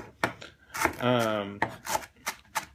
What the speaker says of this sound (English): we are going to mince it to death also